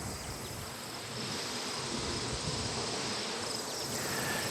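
A dense, loud, unbroken hum of honey bees crowding mating nucs, steady throughout with no voices.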